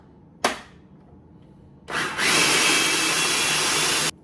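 A food processor blending basil pesto with water added. A brief pulse is followed by a short pause, then a steady, loud motor whir runs for about two seconds before stopping abruptly, with no talk.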